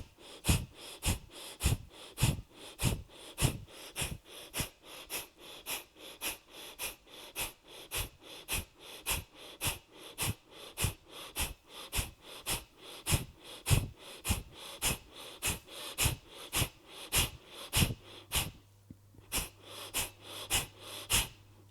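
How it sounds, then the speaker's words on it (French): Rapid, forceful nasal exhalations in yoga breathing, a steady train of sharp, close puffs repeating about twice per second, pausing briefly near the end before resuming. "Une inspire passive, une expire active."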